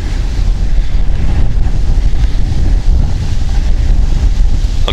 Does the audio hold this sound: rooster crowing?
no